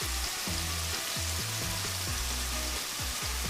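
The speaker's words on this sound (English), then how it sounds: "We're just going to sear these on both sides" Red Lechwe backstrap sears in a hot pan with a loud, continuous sizzle and crackle, along with a few low thumping knocks from the pan underneath.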